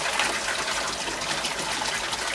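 Water gushing steadily as an aquaponics bell valve flushes, fed by a 12 watt pump; a continuous, fairly loud rushing pour runs unbroken throughout, close by and alone.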